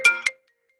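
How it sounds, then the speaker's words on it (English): A phone ringtone plays during an online wellbeing lunch call: two short, loud electronic bursts of tone in quick succession, then silence. "My phone rings"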